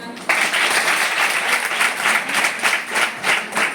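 A group of listeners claps together after a teacher's prompt, a lively burst of applause with audible individual claps, starting abruptly and holding steady for several seconds.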